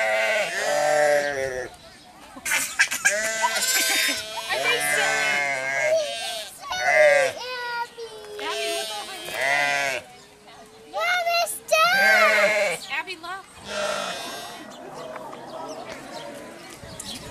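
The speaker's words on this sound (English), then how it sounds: "This is actually a sheep. It's called Jacob's sheep." Jacob sheep at a farm, repeated loud, harmonic bleats and honking calls coming close in irregular bursts, with short gaps between them.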